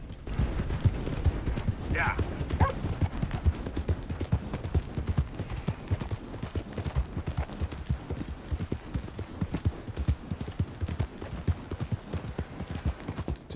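Horse hooves clip-clopping in the video game Red Dead Redemption 2, a steady rapid rhythm of hoofbeats running throughout at close range, with a brief voice early on.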